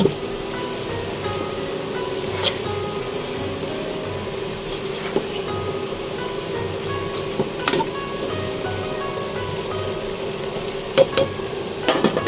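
Paklay stew being stirred in a pan, a steady sizzling fry with scraping utensil strokes recurring every few seconds, close and continuous, with no talk.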